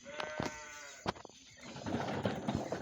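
A goat bleats in a couple of short, wavering calls near the start, followed by a rougher, noisier stretch of outdoor background with no clear speech.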